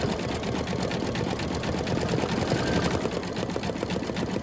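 An embroidery machine stitches a shamrock design onto a coaster, its rapid, even needle chatter running continuously and close, with no one speaking.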